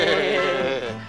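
A child imitates a sheep bleating, holding one drawn-out, wavering "baa" call close to the microphone, loud and clear, with a slight tremble in the voice.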